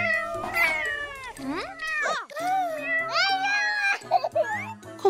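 Repeated cartoon kitten meows, high and wavering, some drawn out like cries, fill the clip over soft animated music, loud and close throughout.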